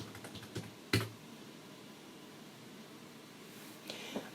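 Keystrokes on a computer keyboard as a login and password are entered: a few scattered soft clicks, one sharper tap near the start and a brief cluster of taps at the end, fairly close over a low steady room hiss.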